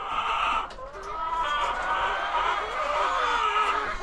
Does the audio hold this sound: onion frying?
no